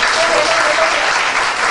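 Applause for class C at a 40th anniversary reunion of St Paul's College Class of 1969, with steady, dense clapping that fills the room evenly and stays loud from start to finish.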